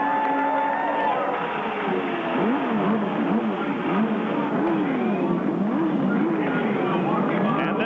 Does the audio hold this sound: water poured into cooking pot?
no